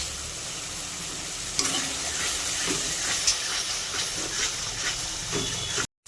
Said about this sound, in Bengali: মশলা খুব সুন্দর কষানো হয়ে গেছে, মশলা থেকে তেল ছাড়তে শুরু হয়েছে।